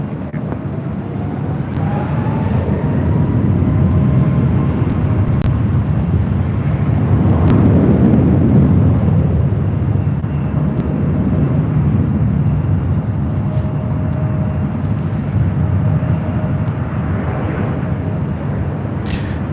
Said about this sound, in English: That is Delta Connection Flight 4082, operated by Sky West, heading to Albuquerque, New Mexico, and it's E175LL.